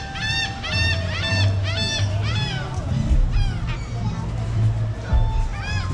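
Ducks and seagulls call at Busch Gardens, a busy chorus of repeated honking and squawking calls close by, layered over a crowd hum with voices mixed in throughout.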